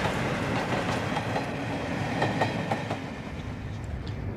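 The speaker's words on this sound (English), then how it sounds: "the royal train is on its way north." The royal train runs along the rails with a steady rumbling roll and rhythmic clickety-clack of wheels over joints, heard continuously from on board at moderate loudness.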